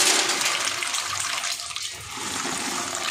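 Water in a pot at a rolling boil with macaroni added: a dense, steady rush of bubbling that carries on without a break and is moderately loud.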